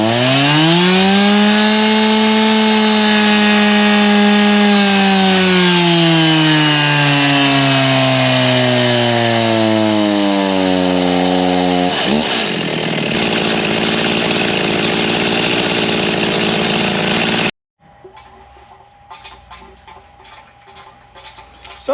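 A small engine fitted with a large carburetor roars continuously on a dyno, pitch rising steadily through a full-throttle run before cutting off abruptly, loud and close, then a quieter mechanical tail.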